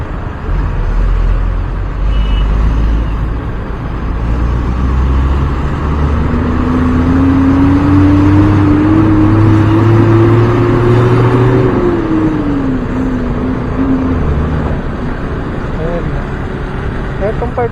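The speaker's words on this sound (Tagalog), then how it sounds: "Kasi ito patigil-tigil talaga tong bus na to." A bus creeps through heavy stop-and-go road traffic in Bulacan, its engine droning low and close, then climbing in pitch as it pulls away before easing off again, while people talk over it.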